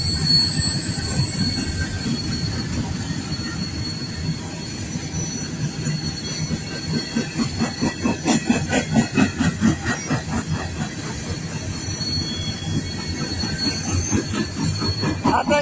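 A long coal train rolls past at close range in Quinnmont, West Virginia, its wheels squealing and hissing steadily with a continuous rumble and a rhythmic clatter of cars that grows more pronounced toward the end.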